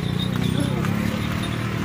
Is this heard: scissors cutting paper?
no